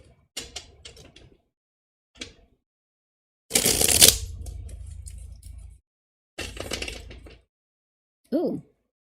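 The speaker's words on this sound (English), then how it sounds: "Let me shuffle once more." Tarot cards being shuffled by hand, several separate bursts of papery riffling and slapping, close and fairly quiet, separated by silent pauses, with no talk.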